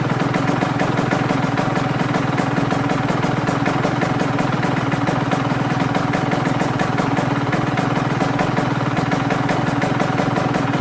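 A KTM 125SX two-stroke dirt bike engine runs during a heat cycle after a top end rebuild with a new piston, a loud, steady, rapid buzzing idle held close by, with no talking.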